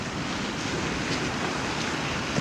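High-tide ocean water laps right up to seaside houses at the end of a street with no beach left, a steady, dense roar of surf and wind noise that holds constant throughout.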